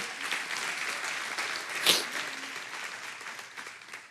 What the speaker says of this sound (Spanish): Den un aplauso a los que han creído en Él